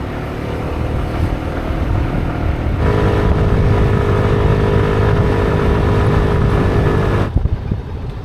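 A small motorbike carries riders through a quiet island town near Boracay in the Philippines, its engine a steady close drone throughout with a slight rise partway, wind rush over it, ending with a brief bump.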